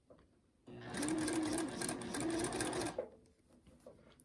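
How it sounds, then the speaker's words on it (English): Sewing machine stitches a Drunkard's Path quilt block, a loud steady whirring run of about two seconds with a brief pause midway, starting and stopping abruptly amid quiet room tone. "And then stitch all the way to the center."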